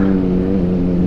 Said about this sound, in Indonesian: 250 cc 4 silinder dengan suara yang khas ya teman-teman.